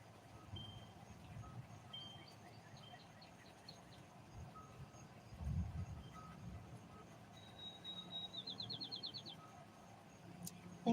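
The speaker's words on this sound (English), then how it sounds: "Birds are moving back in." Birds chirp faintly in short repeated trills and a rapid rising series as a storm passes, over a low rumble and quiet background noise, with a brief louder thump midway.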